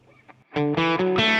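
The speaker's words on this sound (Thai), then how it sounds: "เปิดรีเวิร์บ" Electric guitar with reverb switched on plays a few loud, sustained notes after a soft lead-in, each chord ringing close and full with a lingering, washy tail.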